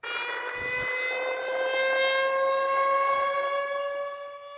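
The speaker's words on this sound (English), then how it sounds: "That emergency siren is only a test" A loud, sustained emergency siren sounds during a test in a First Nations community facing flooding, wailing with a steady, slightly falling tone, holding for several seconds before fading.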